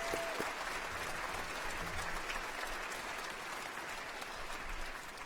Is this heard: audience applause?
yes